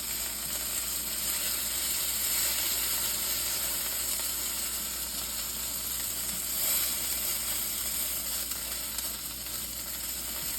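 Small deer steaks sizzle steadily on a grill at about 350 degrees, a dense, continuous crackling hiss that holds close and even throughout, with no talking.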